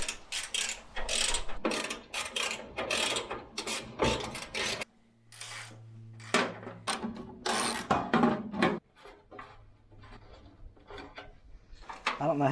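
Ratchet wrench loosening the 7/16 bolts holding the grill on an old tractor during a water pump job, a close series of metallic clicking bursts with pauses, plus some clanking and low mechanical noise.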